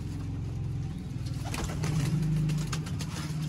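Pigeons in a breeder loft, including a Teddy pigeon, coo in low, repeated throbbing rolls that carry through the clip, fairly close, with a faint engine-like rumble underneath and no talking.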